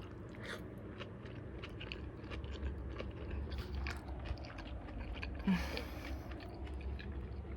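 Someone eats cabbage, with soft moist chewing and crunching close to the mic over a quiet room hum and one slightly louder bite near the end.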